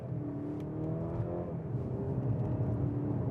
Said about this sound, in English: let's check out this 9-speed gearbox that's been reconfigured